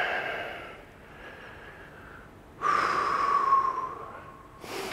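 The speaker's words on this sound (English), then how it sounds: "So big, big deep breaths." Deep, slow breaths taken during a stretching routine, an airy exhale fading out, then a louder, sharper intake with a faint whistling edge, and a further breath at the end; close and alone, no talking.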